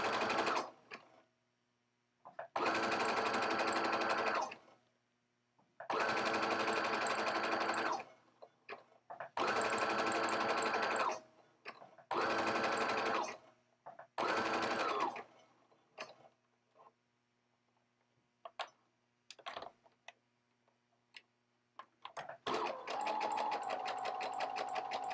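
A sewing machine stitching socks runs in several loud close bursts of rapid mechanical stitching, separated by quiet pauses with small ticks and handling clicks, then starts again near the end.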